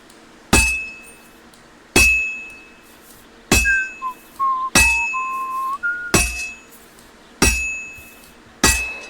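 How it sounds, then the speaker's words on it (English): A hammer strikes a sword on an anvil in Kingdom Come Deliverance II, seven sharp metallic clinks spaced about a second or more apart, each ringing briefly, with a wavering whistled tune over the middle blows. "Now take the hammer and try hitting it a few times."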